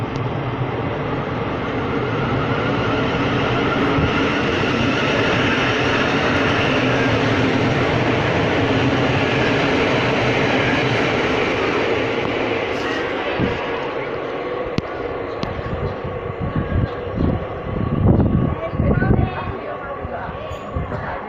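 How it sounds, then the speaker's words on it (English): An electric train passes with a strong, sustained whooshing roar and an eerie, UFO-like hum that swells and then fades, followed by closer rumbling bursts near the end. "Why do they make these trains sound like UFOs?"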